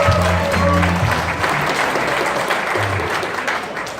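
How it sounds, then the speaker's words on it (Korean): A crowd at a labor union rally breaks into loud, sustained applause to welcome a speaker, dense clapping that stays steady for several seconds and fades slightly toward the end, while a voice briefly carries over the start. "큰 박수로 모시겠습니다"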